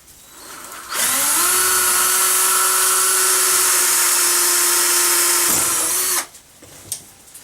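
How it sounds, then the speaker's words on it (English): A power drill whirs loudly at high speed for about five seconds while drilling out a part of a trap, its pitch dipping slightly as it bites, then stops abruptly. "I've got to drill this sucker out."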